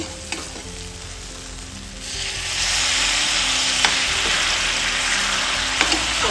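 Water is poured into cooked-down spice masala in a pan for a spicy boal fish curry, and a quiet background hum gives way to a loud, steady sizzling that carries on with a few scraping stirs.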